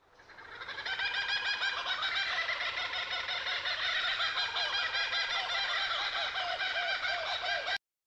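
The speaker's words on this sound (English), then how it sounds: "kookaburra," A kookaburra calls in a loud, continuous cackling chatter of rapid, laughing hoots lasting several seconds, close and unbroken, then stopping abruptly.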